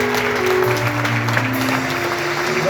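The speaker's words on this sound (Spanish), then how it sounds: "¿Cuánto dan un aplauso a Dios por la vida de ellos?" An audience claps steadily in a dense, continuous wash of applause, with low background music humming underneath.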